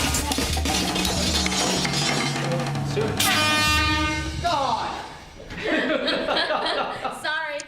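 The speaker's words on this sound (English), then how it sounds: "Okay, blow the horn." A loud air horn blasts several times during a team challenge on an island, sustained harsh tones layered with people chattering and laughing nearby.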